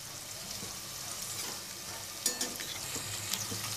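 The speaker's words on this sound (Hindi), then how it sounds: "सबसे पहले तेल डालेंगे, फिर थोड़े प्याज डाल देंगे" Onions frying in oil in a pan for street-style veg noodles, a steady close sizzle with stirring clatter and a few sharper spatula scrapes partway through.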